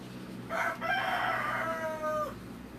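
A backyard rooster crows loudly and close by, one long drawn-out call following a short opening note, with no talk over it.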